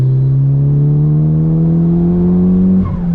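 A Mitsubishi Lancer Evolution 5 rally car engine holds a loud, steady high rev close to the microphone, its pitch creeping upward before it abruptly drops off near the end.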